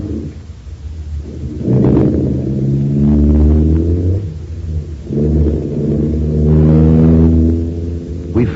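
A car engine cranks and catches in a radio drama, then revs and pulls away in two strong swelling surges of rumbling roar, loud and close, with no talking.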